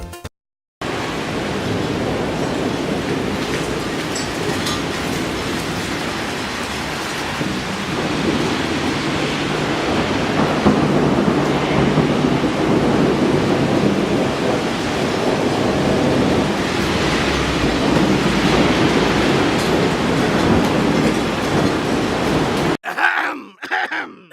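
A thunderstorm rolls in outdoors, with heavy rain hissing steadily and low thunder rumbling underneath for about twenty seconds. The storm swells slightly toward the middle and ends abruptly. No one speaks.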